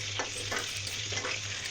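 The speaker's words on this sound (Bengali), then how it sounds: "এই যে বন্ধুরা, আমি ডিমটা ভেজে নিচ্ছি" An egg fries lightly in oil in a kadai, a soft steady sizzle broken by brief stirring scrapes.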